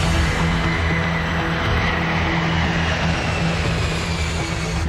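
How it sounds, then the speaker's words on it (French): Engines of a KLM airliner, flight 4805, spooling up as it accelerates down the runway for takeoff: a loud, dense, unbroken roar with a steady low hum running underneath throughout. "À chaque seconde, le KLM prend un peu plus de vitesse."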